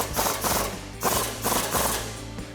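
A ratchet wrench tightens a flange bolt during the install of a 0 to 3.5-inch suspension lift on a Toyota 4Runner, clicking in rapid repeated strokes with short pauses between pulls, close, over a steady low hum.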